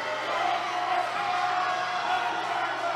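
A wrestling crowd at a New South Action Clash event roars and cheers steadily, a dense wall of voices with whoops rising throughout.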